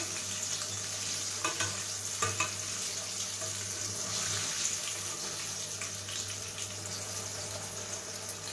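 Garlic mushrooms frying in a pan give a steady, even hiss with a low hum beneath and a few faint clinks, fairly quiet and close, with no voices.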